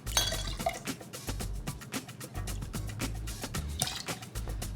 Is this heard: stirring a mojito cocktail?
yes